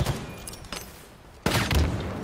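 Sniper rifle fire in a first-person shooter video game: two loud, sharp shots about 1.5 seconds apart, the second followed by a sustained boom and rumble.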